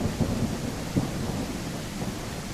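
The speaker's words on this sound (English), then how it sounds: "I couldn't hear the thunder." Continuous rain from a thunderstorm with low thunder rumbling beneath, a couple of brief louder surges early on, steady and enveloping without any voices.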